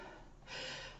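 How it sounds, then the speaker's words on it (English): A synthetic breath generated by Speechelo text-to-speech software: a quiet, airy inhalation that swells in the second half, close and isolated with no talking. "So what does add breathing actually do?"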